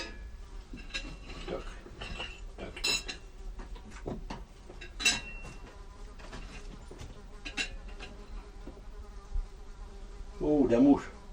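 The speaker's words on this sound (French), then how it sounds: "Oh, la mouche." Housefly buzzing in a rustic home in the Cévennes, a nasal whine that drifts in and out among clinking dishes and cutlery, growing loud and close near the end.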